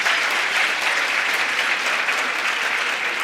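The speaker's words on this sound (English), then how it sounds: "Can we give them one more round of applause" An audience at an official ceremony for new banknotes and coins applauds in a dense, steady burst of clapping, close and loud with no talking.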